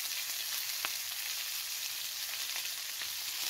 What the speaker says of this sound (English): Oh, there's the bacon going back on.